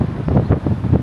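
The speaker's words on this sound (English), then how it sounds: "Once again, sorry for the wind, but it's always windy here." Wind buffets the microphone in heavy low rumbling gusts, loud and continuous with pulsing swells, outdoors in the Old Las Palmas neighborhood of Palm Springs.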